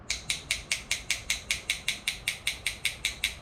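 Quick, regular ticking clicks repeat evenly at about five per second, crisp and close, imitating an engine lifter tick with no voices.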